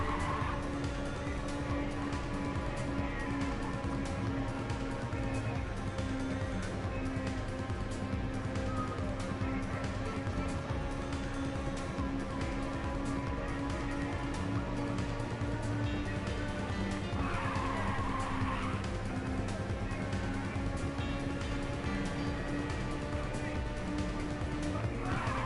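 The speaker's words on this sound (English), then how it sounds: "Ready for nitrous." A car in the PSP racing game Ridge Racer 2 gives a steady, droning engine roar the whole way through, with a brief rushing swell of boost and tire noise about two thirds of the way in.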